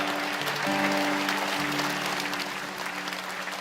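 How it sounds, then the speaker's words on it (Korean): A congregation at a Korean prayer meeting claps in a sustained, dense round of applause that fills the room, with a steady organ or keyboard chord held underneath and sliding to a lower note partway through. "더 큰 박수 한번 돌리겠습니다."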